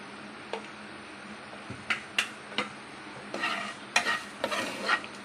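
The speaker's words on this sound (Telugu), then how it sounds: "ఇప్పుడు కారం ధనియా వేసుకున్నాక బాగా ఫ్రై చేసేసుకున్నాం కదండి" Taro root (arbi) fries in a pan with chili and coriander powder, a soft continuous sizzle broken by several sharp clicks and scrapes as it is stirred, close up with no talking.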